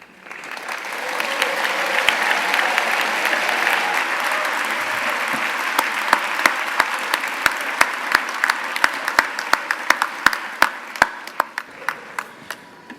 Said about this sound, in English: Fantastic cheering, everyone